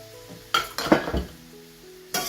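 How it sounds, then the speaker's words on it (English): Stir-fry vegetables seasoned with black pepper and dehydrated onions are stirred in a pan, giving a few close clinking, scraping bursts of utensil against metal over a soft sizzle. "Give it a stir."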